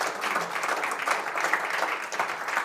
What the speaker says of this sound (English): please join me in a round of applause for our second panel